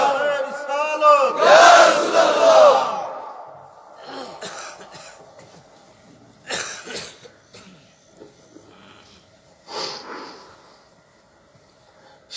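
A large crowd at an Islamic religious gathering (waz mahfil) shouts back a loud, swelling unison takbir response for about two seconds, then fades to scattered murmurs and a few fainter bursts of voices.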